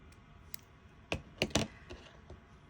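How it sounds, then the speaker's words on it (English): Scissors snipping crochet yarn, a few quiet sharp clicks and cuts close by in an otherwise quiet room. "the first thing I do is I cut my yarn."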